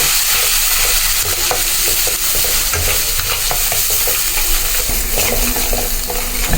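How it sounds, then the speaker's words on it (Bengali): Spice masala with turmeric and chilli stir-fried in a pan, loud continuous sizzling with frequent scraping and clinking of the spatula on metal, close up and unbroken by speech. "মশলাটা ভালো করে কষিয়ে নেব"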